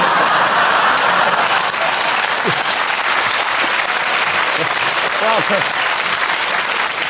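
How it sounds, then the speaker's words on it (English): A television chat-show studio audience claps loudly and steadily throughout, a dense wash of applause with a voice speaking briefly over it. "you're clapping"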